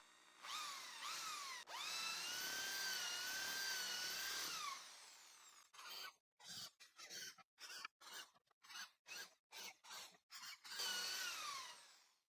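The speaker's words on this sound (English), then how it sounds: "I will use the hand drill with this 3mm bit and the 10mm countersink to drill the markings" A powered hand drill with a 3mm bit whines as it bores into wood, first in long sustained runs, then in a rapid series of short bursts, close and loud.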